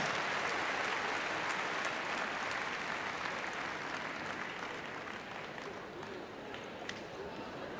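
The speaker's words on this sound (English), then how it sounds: "Give them another round of applause." A crowd at Crufts applauds a gundog display in a large arena, sustained broad clapping that holds steady throughout while an announcer speaks over it.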